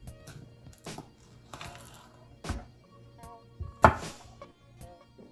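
A knife slicing through Jay's Peach Ghost Scorpion peppers on a cutting board, a few separate sharp chopping knocks spaced out, close and clear, with light handling sounds between cuts.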